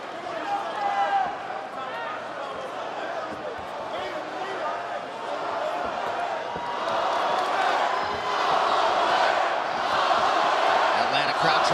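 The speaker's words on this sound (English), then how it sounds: "Atlanta crowd trying to get behind Max Holloway here" An arena crowd in Atlanta cheers during the final round of a Holloway versus Poirier mixed martial arts fight, a steady roar that swells louder toward the end beneath continuous commentary.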